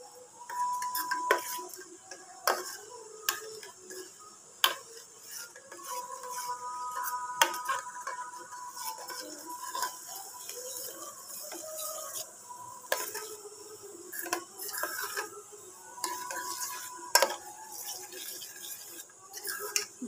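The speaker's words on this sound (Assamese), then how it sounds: "ইয়াতে পেষ্টখিনি দিলোঁ এইখিনি ভালদৰে মিহলাব লাগিব" Neem paste is stirred into hot water in a disposable glass, with quiet, uneven scraping and light clinks of the stirrer against the sides, repeating intermittently.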